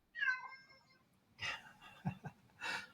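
A house cat meows indoors in a loft: one drawn-out meow followed by breathy snorts and another short cry, close and fairly clear against a quiet room.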